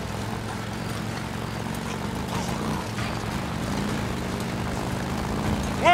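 A helicopter in the game Days Gone drones with a steady low engine and rotor hum throughout, with a louder burst at the very end.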